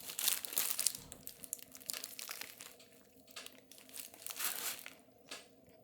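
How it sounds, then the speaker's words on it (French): Crusty bread sandwich being eaten up close while tasting restaurant food, with irregular crisp crunching and crackling bites that swell and fade across several seconds, with no talking. "je peux entendre le pain encore qui croustille"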